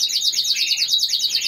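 Pet songbird singing a rapid, continuous trilling song of high chirps and warbles, close and clear with no talking, steady throughout.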